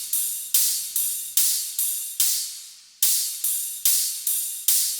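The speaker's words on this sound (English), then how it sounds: "All the rides and cymbals together sounds like this." Rides and cymbals from a future bass track, a hi-hat among them, in a regular pattern of bright, hissy washes that each fade before the next hit, with one longer sustained crash in the middle and no voices.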